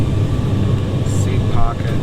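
Kam Air ATR42 turboprop airliner on its takeoff run, heard from inside the cabin as a steady, loud engine and propeller drone with a constant low rumble and a few faint higher tones over it.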